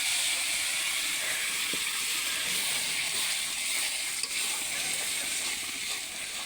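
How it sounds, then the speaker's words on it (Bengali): Spinach poured into hot oil in a pan, giving off a steady, fairly faint sizzling hiss throughout. "সেই পালং শাক ঢেলে দাও তো আম্মু, লাল হয়ে গেছে।"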